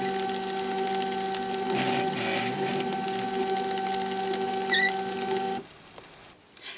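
A ribbon writer printer runs on multiple ribbons with a steady mechanical whir and hum and a few clicks, then stops abruptly near the end, leaving faint clunks.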